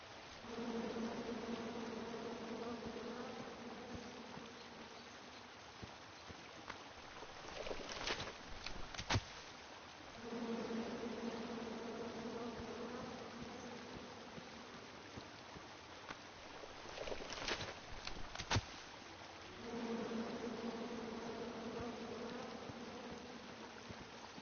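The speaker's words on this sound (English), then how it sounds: "Come at me, bees!" Bees hum faintly and continuously in a King's Quest forest scene, with the drone pulsing in roughly ten-second cycles and interrupted by brief sharp ticks and clicks.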